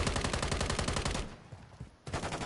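Rapid gunfire in the video game Call of Duty: Modern Warfare 3, a loud, dense burst of automatic shots that drops away briefly before resuming.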